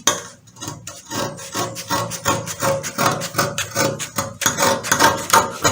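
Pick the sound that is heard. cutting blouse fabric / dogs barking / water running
cutting blouse fabric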